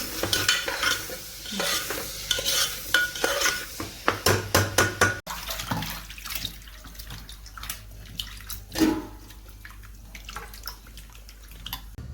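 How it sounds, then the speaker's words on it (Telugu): Onions and green chillies frying with turmeric and salt for mutton curry, a spoon scraping and stirring over a soft continuous sizzle with a cluster of sharp metallic clinks partway through. "ఉల్లిపాయలు పచ్చిమిరపకాయలు వేసి కొంచెం పసుపు, కొంచెం ఉప్పు వేసి వేపుకోవాలి"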